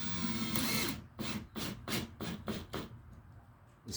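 A power drill drives small sheetrock screws to square off the bottom of a quarter round solar screen frame. It whirs steadily at first, then pulses in a quick series of short bursts, loud and close.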